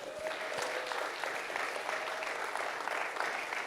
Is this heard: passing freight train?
no